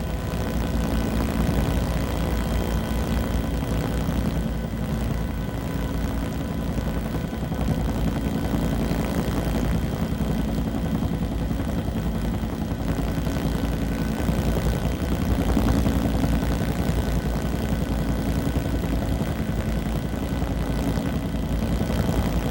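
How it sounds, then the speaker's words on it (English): An Army Sky Crane helicopter flying over railroad tracks gives a steady, continuous rotor and engine drone throughout, loud and unbroken with no talk. "The Army crew in their Sky Crane helicopter elected to fly the base over a set of railroad tracks."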